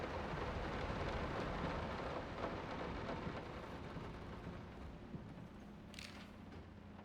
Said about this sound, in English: The rain outside is too loud for me to hear any of the sound effects.